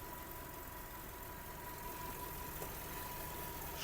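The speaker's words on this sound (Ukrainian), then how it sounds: "Робота двигуна." A Skoda Octavia A5 1.6 MPI engine idles steadily at close range, a constant low rumble with a faint hum, no voices.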